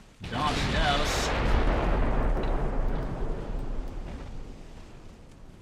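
Naval battle in the Ultimate Admiral Dreadnoughts game with 14-inch guns: one heavy booming blast that rolls into a long rumbling decay of explosions, with a voice talking over it.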